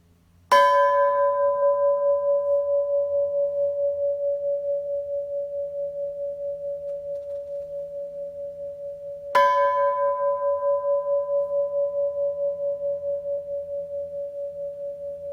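A gong is struck twice about nine seconds apart, each hit blooming into a loud, pure, steady ringing tone that sustains and slowly fades with a gentle pulsing shimmer, heard alone without voices.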